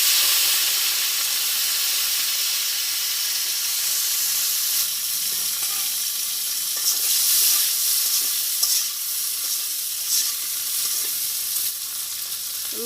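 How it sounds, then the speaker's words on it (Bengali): Yardlong beans frying in hot oil seasoned with whole cumin in a Bangladeshi village kitchen, a loud, steady close-up sizzle and hiss with occasional crackles and stirring, no talking. "এখন বরবটিটা ভাজি করব"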